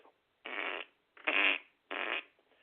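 A voice makes three blown raspberry noises imitating a fart, each about a third of a second long, separated by short pauses, loud and close.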